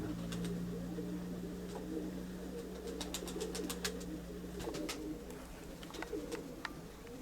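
A pigeon coos in low, steady repeated notes over a constant outdoor background, with scattered sharp clicks and light ticks throughout; no one speaks.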